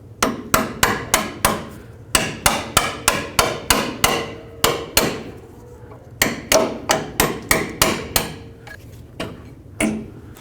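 Sharp metallic hammer strikes on a punch, driving out a lower control arm bolt on a 2001-07 Toyota Sequoia, ring out in quick bursts, roughly two dozen blows in uneven clusters with brief pauses, close and loud.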